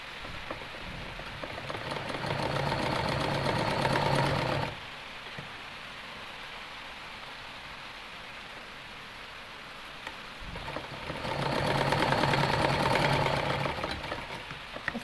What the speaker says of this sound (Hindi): इस तरीके से हम इससे सिलाई लगाएंगे।